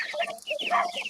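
Several chooks of mixed breeds on a farm give a quick burst of close clucks and squawky calls, busy and overlapping for about a second.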